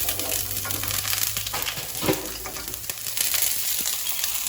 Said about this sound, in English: So we're gonna let that fry up a little, guys, just to release some flavors.